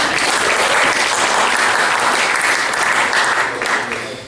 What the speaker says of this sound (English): You can clap for that, that's okay.